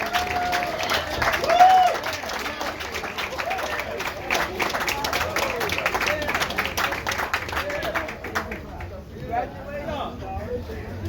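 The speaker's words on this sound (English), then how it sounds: "Please give a huge round of applause for the one and only Charles Rangel." An audience applauds Charles Rangel at a plaque unveiling ceremony, a lively spread of clapping with some cheering and voices mixed in, sustained for most of the stretch before thinning near the end.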